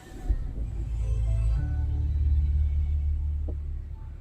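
Audi A6 engine started by push button, a low rumbling idle that swells and holds steady close by, with a soft chime-like tone partway through.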